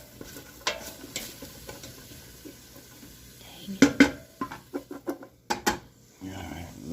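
Vegetables sweat in a pot for marinara while a spoon stirs them, with a soft sizzle under close, irregular scrapes and clanks against the pot.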